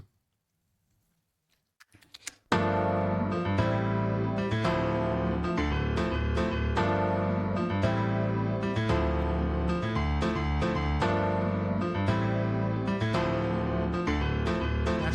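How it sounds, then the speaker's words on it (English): Rhodes Mark I electric piano played through an amp and a phaser, with sustained chords and a steady pulsing rhythm running unbroken after about two seconds of near silence. "the Rhodes, which was putting it through an amp and a phaser."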